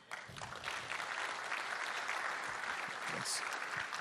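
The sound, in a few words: audience applause at a conference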